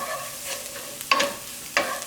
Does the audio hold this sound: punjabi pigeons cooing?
no